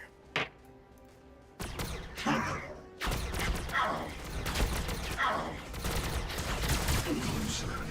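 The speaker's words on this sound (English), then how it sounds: "Plasma fire support ready." Plasma fire support in Warhammer 40K Battlesector hits as a volley of heavy blasts and crashing impacts. A faint thud opens it, then loud overlapping bursts roll on with a steady rumble, mixed with a little game voice.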